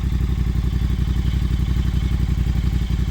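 A 2020 Triumph Thruxton TFC motorcycle engine idles steadily up close, a continuous throbbing rumble with a regular pulsing beat and no speech.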